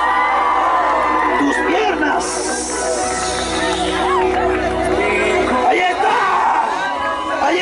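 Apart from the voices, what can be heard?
crowd shouting and cheering with joy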